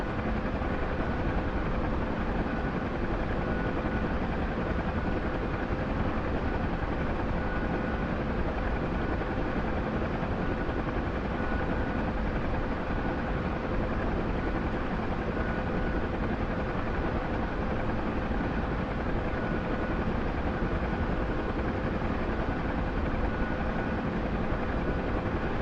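A UH-60 or Huey helicopter in a video game drones with steady rotor and engine noise, a constant dense roar lasting throughout with no pauses.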